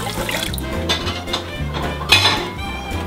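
Water runs into a pot of rice on the stove, a continuous close splashing and trickling with faint clinks of the pot, and no talk.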